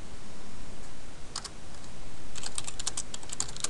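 Someone types on a computer keyboard against a steady background hiss: a couple of isolated keystrokes, then a quicker run of crisp clicks.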